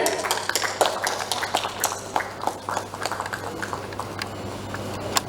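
Audience applause at a Bihar Diwas event in New Delhi, with scattered claps from a crowd rising and then tapering into sparser claps against a steady background hum.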